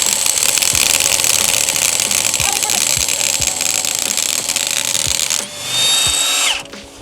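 A Harbor Freight Hercules 3/4-inch impact wrench hammers continuously on a lug nut, a loud, close, rattling buzz with regular heavier knocks, rising in pitch briefly as the nut frees before cutting off.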